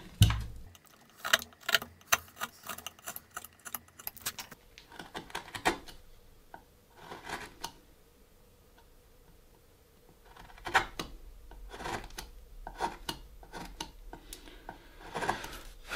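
A slightly curved gouge carves chips from wood in a rosette chip-carving pattern, making close, irregular scraping ticks and short cutting strokes in clusters with quieter gaps, no speech.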